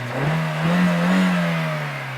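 A CNG-fuelled automatic car engine idles smoothly with a low steady hum, swelling slightly in the middle and easing off, no voices present.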